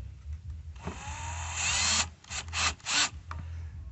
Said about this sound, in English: so we'll go ahead and use the drill